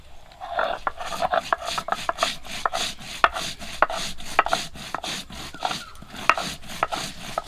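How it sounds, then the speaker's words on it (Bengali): Cumin paste is ground by hand on a grinding stone with a little water, giving close, rhythmic rasping and scraping strokes that repeat steadily with sharp gritty clicks. "ওদিকে সঙ্গীতা বসে পড়েছে মশলা বাটতে, জিরা বাটবো"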